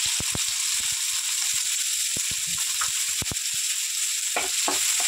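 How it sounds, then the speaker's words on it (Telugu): Sliced onion frying in hot oil in a pan, a steady close sizzle with scattered sharp crackles and pops throughout, no talking. "ఉల్లిగడ్డ ఫ్రై చేసుకున్నాము"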